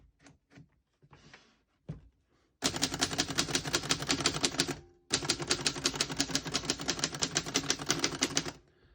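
Rapid, steady keystrokes on a 1931 Corona 4 vintage portable typewriter clatter in two long bursts separated by a short pause, preceded by a few scattered clicks.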